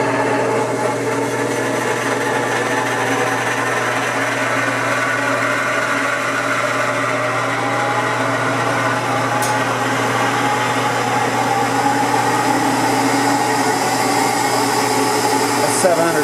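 Kwik Way cylinder head machine running, a steady motor hum and whine heard close and continuous, with a faint rise in pitch as it speeds up.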